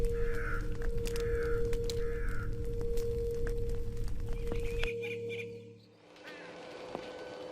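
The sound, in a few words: large black crows cawing in video game The Lost Crown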